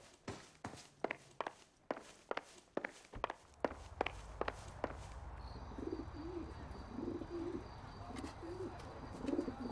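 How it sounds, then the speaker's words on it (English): Carrier pigeons coo softly in the background of an L.A. Noire scene, a few low rolling calls in the second half. Crisp footsteps come first, walking on a hard floor, with a faint high electrical hum later. "Carrier pigeons, huh?"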